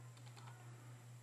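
Quiet keystrokes on a computer keyboard as a Linux install command is typed for a Raspberry Pi 3, a handful of soft clicks over a steady electrical hum.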